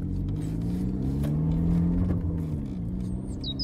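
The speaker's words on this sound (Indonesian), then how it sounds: "Nah, itu dia angkotnya." An angkot minibus rolls up close with a steady low engine rumble, idling and slowing to a stop, with no talk over it.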